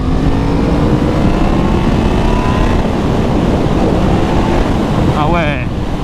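Yamaha MT-10 motorcycle engine at about 100 degrees, revving with a steady loud roar and rising harmonic whine under wind noise, a short pitch sweep near the end.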